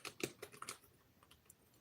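Quiet, close clicking of a computer keyboard as someone types a short burst of keys, the taps uneven and quickly thinning out.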